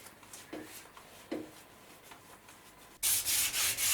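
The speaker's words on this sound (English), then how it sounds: "The day after I sand the groove for the second coat." Sandpaper works over a wooden luff groove, a rope channel for a sail. A few soft, scattered rubbing strokes give way to a loud, steady burst of close sanding.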